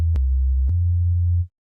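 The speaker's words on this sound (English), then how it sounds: "let's not route that through the filter so that we just have that steady sine wave" A soloed synth oscillator holds a steady low sine tone for about a second and a half, loud and unchanging, with two brief clicks near the start before it cuts off cleanly; no voices.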